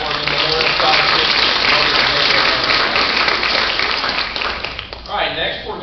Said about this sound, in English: Let's give one more round of applause for the Pat Worthing Memorial Scholarship.